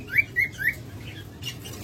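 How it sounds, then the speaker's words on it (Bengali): Caged lovebirds, cockatiels and budgerigars give three bright chirps in quick succession, followed by a softer rustle, near and alone against faint background noise. "আর এখানে রয়েছে অনেকগুলো পাখি দেখুন"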